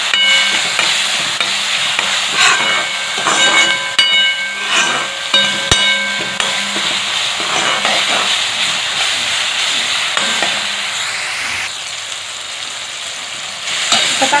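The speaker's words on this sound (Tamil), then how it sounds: "இந்த வெங்காயம் தக்காளி கொஞ்சம் மசாலா மிளகாத்தூள் போடுறதுக்கும் வந்து சேர்த்து உப்பு போட்டு வதக்கிக்கலாம்." Onion and tomato sautéing with salt and chilli powder in a pan for a bitter gourd poriyal, a loud steady hiss and sizzle with intermittent spatula scrapes and clinks, close up and without speech.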